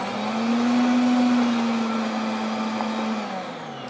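A blender or food processor whirs steadily through a thick batch of hummus, a loud continuous motor drone holding a fairly even pitch for several seconds with no talk.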